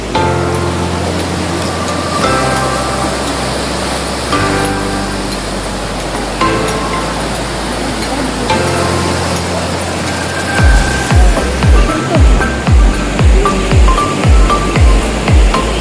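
Hot spring water pours and flows at a bathing spot in Manali, a loud, steady rush of water close by, joined near the end by repeated low thumps, with no one speaking.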